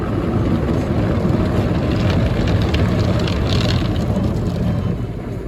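An automatic car wash machine at a gas station cleans a car in Gilbert, Arizona, producing a loud, constant roar of spraying water and brushes. It sounds close and steady throughout, with no talking.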